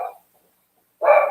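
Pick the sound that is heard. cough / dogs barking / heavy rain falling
dogs barking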